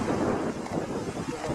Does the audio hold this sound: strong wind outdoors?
yes